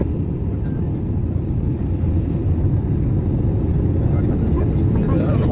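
Airplane cabin noise during the approach to landing at Ho Chi Minh City, a loud, steady low engine roar and rumble that fills the whole stretch, with a voice speaking faintly beneath it.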